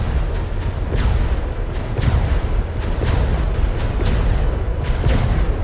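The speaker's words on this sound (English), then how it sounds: "Maybe let's have a quick look at Dreadnought in action," Dreadnought warship's guns firing rapidly in a naval combat video game, a dense, continuous rumble of booms with repeated sharp blasts about every second, loud and sustained throughout.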